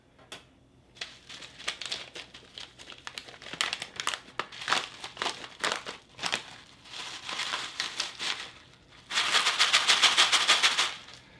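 Plastic MRE pouch from a US Beef Stroganoff with Noodles menu being cut open with a knife or scissors, giving bursts of crisp crinkling and rustling that grow louder and denser near the end, with no talking.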